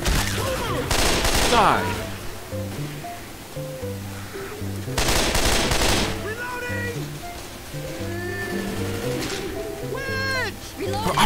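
Gunfire bursts in Left 4 Dead 2, loud broadband blasts around one and five seconds, mixed with game music, character voices and player talk.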